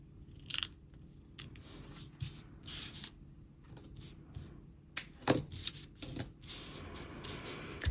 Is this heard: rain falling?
no